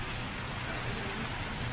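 Steady rain falling continuously, a dense, even hiss with no breaks or distinct drops, faint and distant-sounding, with no voices.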